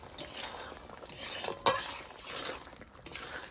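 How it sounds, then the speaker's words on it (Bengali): Mushroom curry stirred in a pan after ground garam masala is added, with a spoon scraping and clinking against the metal and soft sizzling underneath, one sharper clink midway. "একটু নেড়ে ছেড়ে নেবো"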